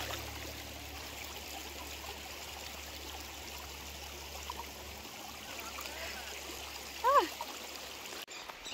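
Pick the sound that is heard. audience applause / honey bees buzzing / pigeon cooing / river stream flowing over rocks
river stream flowing over rocks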